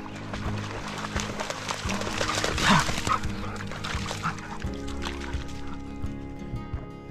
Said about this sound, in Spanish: Estos perros son histéricos ahí.